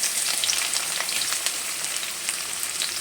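Chopped onions, three large ones, hit hot mustard oil with bay leaf, cardamom, cloves and cinnamon for a mutton curry, giving a steady, close, loud sizzle with crackling pops throughout and no talk.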